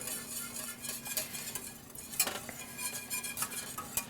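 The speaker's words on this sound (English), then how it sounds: "So you definitely got to whisk that." A whisk scraping and clinking around a pot as cheese melts into a spicy beer cheese sauce: quiet, close metallic ticks and scrapes in an irregular rhythm.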